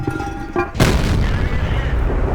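A T28 Prototype tank's cannon in World of Tanks fires one sharp, heavy blast that follows a brief stretch of engine and ambient hum and is followed by a sustained rumbling roar.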